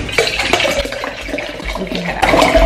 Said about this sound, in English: let's fill our Hydro Peak up